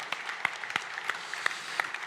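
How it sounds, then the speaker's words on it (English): Audience applause at the world premiere of the Škoda Scala, a soft, steady patter of clapping from a crowd with a few sharper claps standing out, fairly faint and without talk. "Ladies and gentlemen, yeah, you can applaud if you want."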